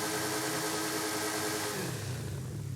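Twin-turbo 7.4-litre V8 in a 1982 DMC DeLorean in Forza Horizon 5 revs steadily and loudly, its pitch sliding downward near the end as it settles back, with no talk over it.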